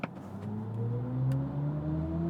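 A smooth synthetic acceleration hum from a 2022 BMW i4 M50 electric car rises steadily in pitch like an accelerating engine, continuous and fairly loud, with no voices.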